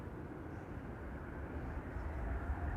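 A fixed-wing airplane departing Amsterdam Schiphol Airport, heard as a steady, fairly faint low rumble of engines at a distance, continuous and unbroken throughout.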